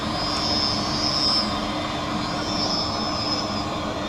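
A lens edging machine spins a small wheel to bevel the concave rear surface of an eyeglass lens, producing a loud continuous whirring grind with a steady high whine and no pauses.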